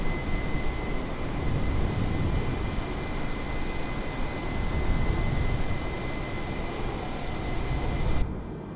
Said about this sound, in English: so just make sure that the airplane does turn. It is turning quite sharply because it is a sharp turn